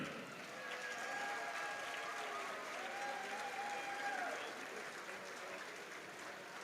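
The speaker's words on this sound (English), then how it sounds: "Let's give a big round of applause to all who have been a part of this journey." A gym crowd at a girls' high school basketball game between Betsy Layne and Prestonsburg claps for athletes and coaches, a steady, fairly soft wash of applause lasting several seconds with faint voices underneath.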